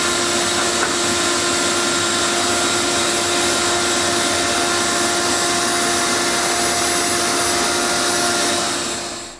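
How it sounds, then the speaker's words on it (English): A vacuum sucks debris out of cut grout joints in a kitchen floor during re-grouting, a steady loud drone holding an even whine from start to finish before tailing off at the very end. "you just saw the process to vacuum out the joints"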